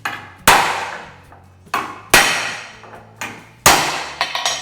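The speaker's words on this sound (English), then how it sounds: "a cold chisel with the end rounded off so that I can use it for panel beating" Cold chisel with a rounded-off end struck by a hammer while panel beating a car's moulding line: three loud, sharp metallic blows, each ringing out and decaying, with a few lighter taps between them, close up and with no voices.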